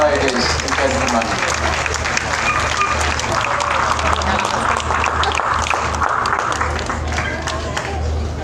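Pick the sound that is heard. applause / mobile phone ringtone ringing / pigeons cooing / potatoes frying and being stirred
applause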